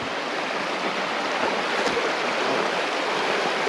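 A creek flowing beside a rustic campground in the mountains of Alberta or British Columbia, a loud, steady rushing of water that fills the whole scene without a break.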